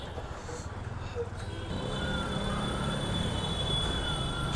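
A metro train rumbles on the elevated track overhead at Shahbag station in Dhaka, a steady rolling roar with faint wheel squeal that builds and holds, heard from street level below amid traffic noise.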